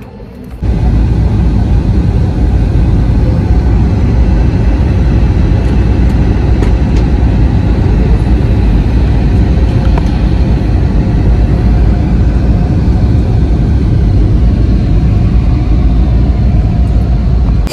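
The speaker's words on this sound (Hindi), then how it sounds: "फाइनली हमारी लैंडिंग हो गई है।" A passenger airplane on landing, its loud, steady low engine and cabin roar rising abruptly after a brief quiet start, then holding a constant rumble throughout.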